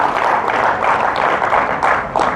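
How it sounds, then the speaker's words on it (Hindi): An audience at a public gathering breaks into loud, dense clapping to welcome honoured guests, a steady wash of hands that holds throughout with a brief dip near the end. "जोरदार तालियों से इनका स्वागत अभिनंदन करें।"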